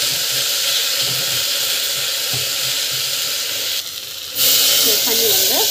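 Loud steady steam hiss from a potato leaf stem stir-fry with home-made chili powder and spices as water is added, briefly dipping then surging, with a faint tinkling clink near the end.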